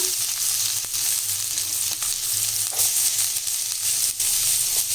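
Ten garlic cloves and a large onion fry in oil for a traditional lentil dumpling curry, a steady close sizzle with faint stirring scrapes throughout.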